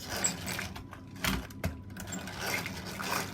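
Eggs being whisked by hand for a 1970s-style lemon drizzle cake batter, giving quiet, irregular rattling and tapping with a few sharper knocks, near and fairly soft, with no talking.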